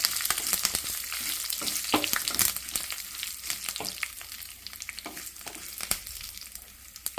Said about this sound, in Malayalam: വറ്റൽ മുളക് നമ്മൾ ഇടണം.